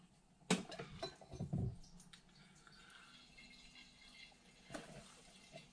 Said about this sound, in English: first of all we need to get some siphoning done